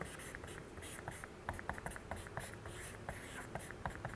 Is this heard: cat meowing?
no